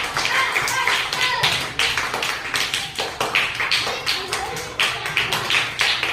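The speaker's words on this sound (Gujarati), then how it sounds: "અરે વાહ, તાળી પાડો બધા." A group of children claps quickly and unevenly during a classroom game, a dense run of sharp, close hand claps that continues throughout.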